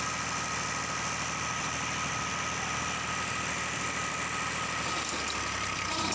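A small engine drives a pump drawing water from a deep well, running with a steady, even drone that holds close and constant, with no speech.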